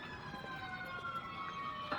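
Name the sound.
sirens of emergency vehicles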